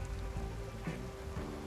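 Light rain falling in the zombie survival game Project Zomboid, a faint, steady patter of drops on surfaces with a soft continuous hiss and no voices.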